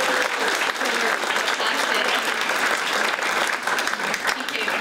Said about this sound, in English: So let's give Tony another round of applause.